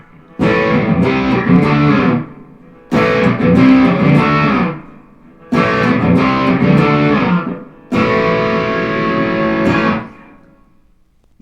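Electric guitar played through a boost pedal with delay and reverb, four loud sustained chord phrases separated by short gaps, each tail washing out into ambience.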